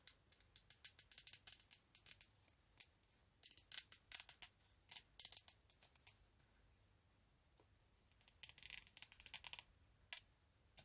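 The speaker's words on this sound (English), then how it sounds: "these scissors can make a bit of a noise." Serrated scissors snip paper in quick, crisp bursts of clicks, faint and close, with a short lull before the rapid cutting resumes.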